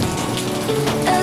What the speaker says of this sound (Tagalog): Ambon na lang pala.